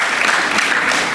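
Close, loud, dense clapping from an audience at a Kannada cultural association event in Chicago, sustained throughout the short burst with no one talking.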